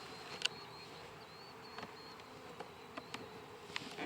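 Honey bees buzz around an open hive during queen replacement, a faint, steady hum with a few individual bees zipping close past now and then in a quiet outdoor setting.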